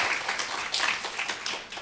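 A church congregation applauds to welcome a pastor during a Sunday service, a steady wash of clapping from many hands that swells briefly and carries on throughout without talk.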